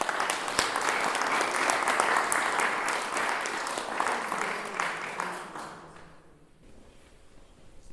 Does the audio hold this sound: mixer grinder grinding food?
no